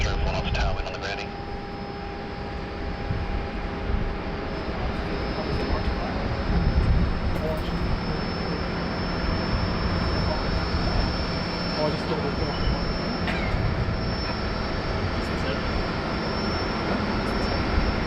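Boeing Dreamliner jet engines at Sydney Airport hold a steady, broad roar with a faint high whine throughout, sustained and fairly loud, and a voice is heard talking over it.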